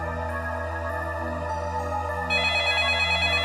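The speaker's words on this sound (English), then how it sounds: "As soon as I got home, the phone rang." Telephone ringtone ringing in a horror video game, a sustained electronic tone pattern that grows louder and brighter partway through, close and alone.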